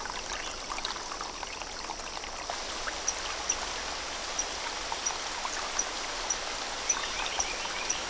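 A rainforest stream and waterfall rush steadily in a dense, continuous wash of falling water, unbroken and fairly close, with faint high ticking specks scattered on top.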